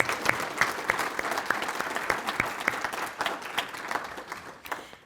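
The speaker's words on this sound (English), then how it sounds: "Let's give them all one more big round of applause." A room full of people claps steadily and warmly, sustained applause with no pauses.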